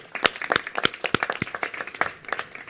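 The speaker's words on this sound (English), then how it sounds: "Let's give him a huge round of applause" Audience applauding for California Governor Gavin Newsom at a homelessness and mental health policy event, brisk clapping close by with sharp individual claps, steady and lively throughout.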